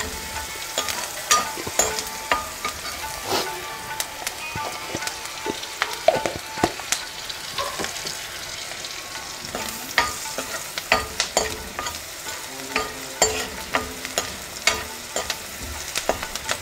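Onions fry in a pan for Karnataka-style methi rice bath, a low continuous sizzle punctuated by regular scraping strokes of a spatula stirring, close and clear with no speech.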